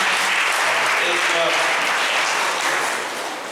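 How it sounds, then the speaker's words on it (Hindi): A church congregation at a Sunday evening service claps loudly in a dense, sustained burst of applause that tapers off slightly at the end, with faint voices beneath. "क्यों ना हम प्रभु के लिए जोरदार ताली बजाते हैं इस समय।"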